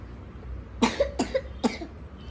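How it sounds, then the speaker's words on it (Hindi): A child coughs three times in quick succession, close by, with short pauses between each cough and no talking. "देखो कितनी खांसी हो रही है ना आपको।"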